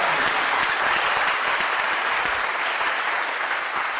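A church congregation applauds, with dense, even clapping from many hands filling the room at a steady loudness throughout, with no voices over it.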